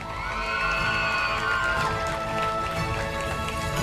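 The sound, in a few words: applause for an award recipient at a graduation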